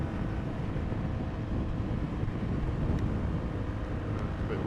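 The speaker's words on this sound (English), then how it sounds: "It's a bit windy out here" Steady wind roars and buffets the microphone outdoors beside a lake on a motorcycle ride, a constant low rumble with no pauses and no talking.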